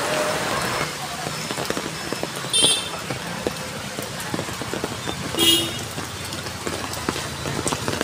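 Steady rain patters on surfaces, with a couple of short car horn toots sounding in the distance.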